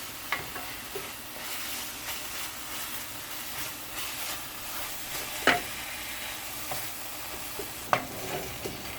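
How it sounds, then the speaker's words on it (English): Masala sizzles steadily in hot oil for an eggplant sabji while being stirred, with a continuous frying hiss, scraping stir strokes and a couple of louder utensil knocks against the pan, close and without speech. "So now we're going to cook it until it's released the all oil."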